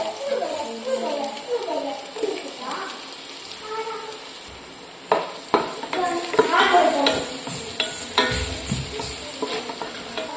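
Sliced onion added to garlic frying in oil for Chinese chicken noodles, steady sizzling with a spatula scraping and stirring the pan, a voice speaking over the first half before the stirring grows louder.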